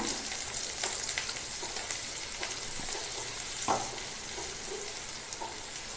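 Potatoes frying in hot oil for a fish and thankuni greens dish, a dense continuous sizzle heard close, with occasional crackles and light stirring scrapes.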